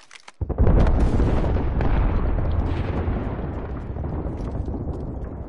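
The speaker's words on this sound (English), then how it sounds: "There's an airstrike inbound" Video game airstrike: a deep, loud blast rolling into a long rumbling roar of overlapping explosions that slowly fades, preceded by a few small pops.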